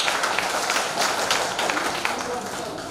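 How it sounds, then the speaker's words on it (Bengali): An indoor audience at a Human Rights Day 2024 event gives a speaker sustained, dense applause, steady and loud for the whole stretch. "আমরা স্যারের জন্য একটা জোরে করতালি দিব।"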